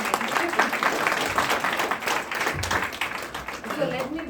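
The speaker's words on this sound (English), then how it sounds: "So one round of applause for Chennai." A crowd at a hometown book launch event in Chennai claps continuously throughout, dense and fairly loud, with some voices mixed in beneath the clapping.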